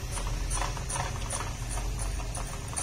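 A Brother Tendy sewing machine runs fast while winding a bobbin, giving a steady, smooth mechanical whir with a fine rhythmic ticking throughout, moderately close and with no voices.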